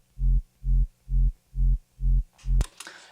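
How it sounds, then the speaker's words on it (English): Synth sub bass from a future rave track pulses in six even, heavy low throbs, each about a quarter second long, then a bright noisy hit ends the run. "we have the same sub as before, but it sounds like this"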